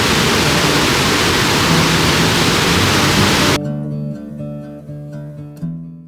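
A river with small waterfalls at Fairy Glen in North Wales roars as a loud, steady broadband rush for several seconds, then cuts to much quieter background.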